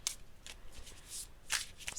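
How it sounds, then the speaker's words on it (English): Tarot cards shuffled by hand, soft papery riffles and flicks in quick, uneven bursts, close and quiet against a hushed room. "So let's go ahead and shuffle"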